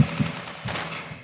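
Sawed-off shotgun blasts in the video game Arsenal, two quick close shots followed by a third, loud and punchy with short decaying tails, no talk.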